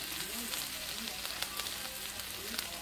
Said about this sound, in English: So I will just put the tomato on this side. Saute that in here.